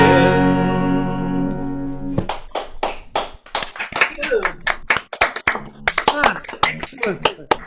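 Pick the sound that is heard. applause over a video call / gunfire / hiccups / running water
applause over a video call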